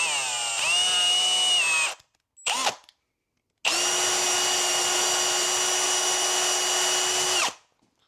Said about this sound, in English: that's why I can just use a drill, because I know it's going to drill straight